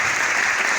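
Audience applause rings out steadily at an event, a dense, even clatter of clapping hands filling the whole moment with no voices over it.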